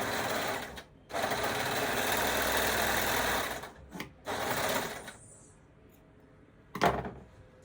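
A serger runs in long, steady whirring bursts while stitching a skirt waistband, stopping briefly between runs and then falling silent, with a single clunk near the end.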